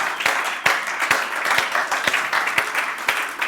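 A small audience applauds students at a demo day with steady clapping, sharp individual claps standing out over the continuous patter, fairly close and without talk.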